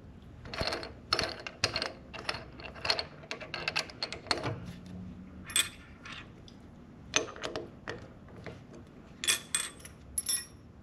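Chamfering a part while machining a die holder: sharp metallic ticks and clicks come in irregular bursts, some close and crisp, with small clinks between them and no speech.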